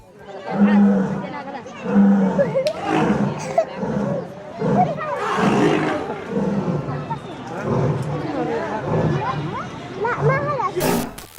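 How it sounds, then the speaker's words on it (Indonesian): Deep, loud lion roars rise repeatedly over a noisy backdrop of audience chatter and voices at an animal show, with growling bursts spread throughout. "Apalagi singa-singa tersebut mengeluarkan suara auman yang cukup keras."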